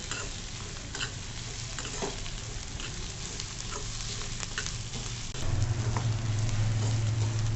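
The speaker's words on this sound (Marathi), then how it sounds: "आता आपण हे कुटून घेतलेलं खोबरं आलं लसूणचं सर्व हे साहित्य आपण छान परतवून घेऊ" Crushed coconut, ginger and garlic being sautéed in a pan for a dry matki potato dish, a busy close sizzle under constant stirring and scraping, with a low steady hum coming in toward the end.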